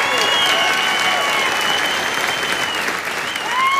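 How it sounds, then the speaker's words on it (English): A comedy show crowd breaks into loud, sustained applause and cheering with sharp whistles, a dense wall of clapping that fills the whole moment. "Give him a round of applause, please."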